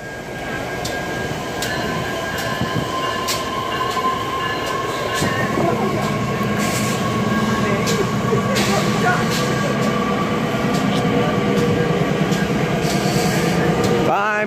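A Metra electric commuter train pulls out of Homewood station at night, a steady rolling rumble with rail noise and faint wheel clatter building over fourteen seconds, close and continuous, with brief voices nearby.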